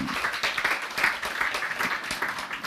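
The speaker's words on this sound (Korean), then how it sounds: "박수로 예수님께 돌리겠습니다." A church congregation breaks into sustained applause after a sermon point, a dense, steady patter of many hands clapping across the whole stretch, moderately loud and roomy with no pause, no voice rising above it.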